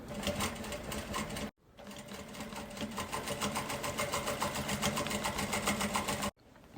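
Sewing machine stitching bias binding onto a thermal bag, rapid rhythmic close-up whirring in two bursts separated by brief pauses, no talk.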